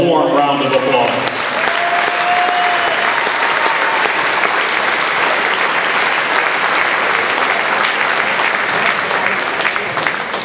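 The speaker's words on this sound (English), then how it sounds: "please give Joe Caprella a warm round of applause." A warm, steady round of applause from a crowd at a wrestling event fills the whole clip, dense and sustained at full level, with a voice briefly heard at the start.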